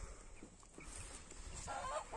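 Chickens on a farm give faint, scattered clucks against a steady background hum, with no voices.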